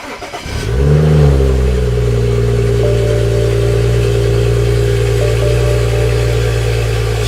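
A BMW 335i with a newly installed stage 2 low-pressure fuel pump cranks, catches and settles into a loud, steady idle with a brief rev, heard close and alone.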